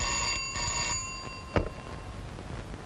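An office telephone rings with a bright, steady bell-like tone in short bursts, fairly quiet, followed by a sharp click as the ringing stops.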